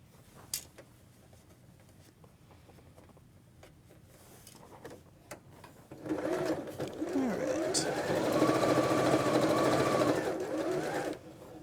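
A sewing machine stitches a pinned quilt block, running loud and steady at close range for the second half after a quiet start of small handling clicks and taps.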